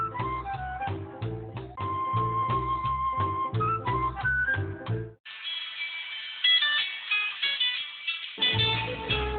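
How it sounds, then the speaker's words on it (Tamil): A mobile phone ringtone plays a bright, repeating melodic tune that stops abruptly midway, followed by a different tonal passage and some low rumble, with no talking. "காலங்காத்தால யாரா ஃபோன் பண்ணிருக்கிறது?"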